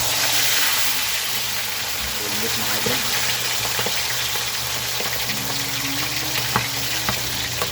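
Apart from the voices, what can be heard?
frying bangus milkfish in oil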